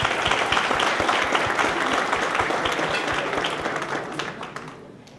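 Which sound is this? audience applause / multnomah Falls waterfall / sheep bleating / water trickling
audience applause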